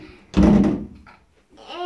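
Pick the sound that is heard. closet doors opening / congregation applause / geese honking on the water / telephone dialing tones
closet doors opening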